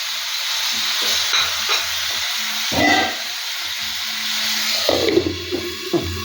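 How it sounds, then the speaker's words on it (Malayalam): Onion and tomato sautéing together in a pan for an eggplant masala, a moderate hissing fry broken by spoon scrapes and stirs and a louder burst of sizzle toward the end, close by with no talking. "ഇനി അത് രണ്ടും കൂടെ ഒന്ന് വഴന്ന് വരട്ടെ."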